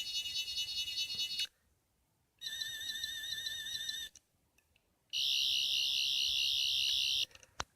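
Toy sonic screwdriver from modern Doctor Who, playing electronic effect sounds: three loud, high warbling, pulsing tones in separate bursts, with silent gaps between them and no talking.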